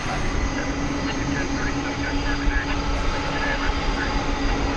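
An MD-11 airliner rolls for takeoff at DFW Airport on a morning, its engines giving a steady, loud broadband roar with faint tonal whine that holds evenly throughout.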